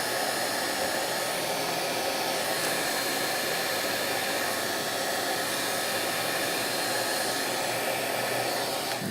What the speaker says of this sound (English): Put that heat gun on there.